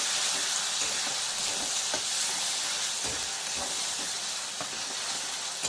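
Ginger, garlic and chilli paste frying in a pan with spices, stirred steadily: loud, continuous hissing sizzle with scraping spoon strokes, no talking.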